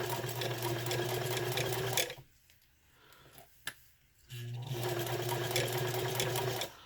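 A sewing machine stitches a vinyl zipper pouch with a regular presser foot, running in a steady fast whirring hum, stopping for about two seconds, then starting again at the same even pace.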